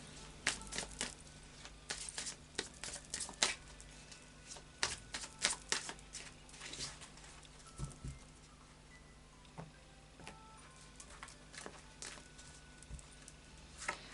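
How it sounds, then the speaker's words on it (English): Oracle cards shuffled by hand in irregular bursts of soft riffling and slapping, close and fairly quiet, with short pauses between. "And a final shuffle of the Fairy Oracle by Brian Froud"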